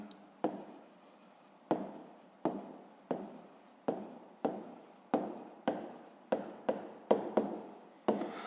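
Pen or marker writing out a fifth-grade math solution, a run of about a dozen short scratchy strokes with sharp onsets, close and fairly quiet, with no talking.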